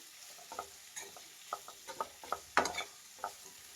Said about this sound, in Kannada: ಈಗ ನಾನು ಕ್ಯಾಪ್ಸಿಕಮ್ ಹಾಕ್ತಾ ಇದ್ದೀನಿ. ವಾಶ್ ಮಾಡಿಬಿಟ್ಟು ಸಣ್ಣದಾಗಿ ಕಟ್ ಮಾಡಿರೋವಂಥದ್ದು